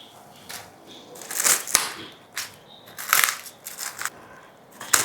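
Small Medusa pineapple being cut with a knife at a harvest in Thrissur, giving a series of close, crisp crunching and slicing bursts with short pauses between strokes.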